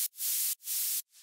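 A noise layer processed with Soundgoodizer in an FL Studio track plays as three bright hissing bursts of white noise, each swelling in and cutting off sharply in a quick rhythmic pattern.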